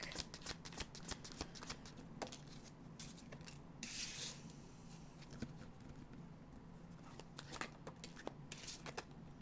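Tarot cards shuffled by hand, a steady run of crisp riffling flutters and soft slaps repeating close up over quiet room tone.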